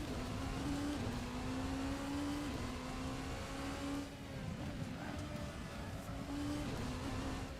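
Race car in rFactor 2 droning steadily with a constant engine note, brief tire-lockup screech moments blended into the continuous in-game engine sound, no talk.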